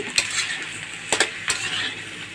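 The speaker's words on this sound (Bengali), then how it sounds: "একটুখানি এটা নেড়ে চেড়ে তেলের সাথে একটু মিক্স করে নিলাম।" Eggplant and onions being stirred in hot oil in a pan, a continuous sizzle broken by a few sharp scrapes and clinks of the spatula against the pan.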